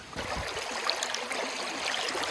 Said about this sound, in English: Rain's coming down heavy.